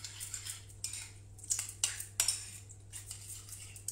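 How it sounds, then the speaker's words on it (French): A spoon stirs a simple sauce for salmon gravlax in a bowl, giving faint, quick clinks and scrapes in an uneven rhythm against a quiet background hum. "Tu peux mélanger, vas-y. Donc on mélange."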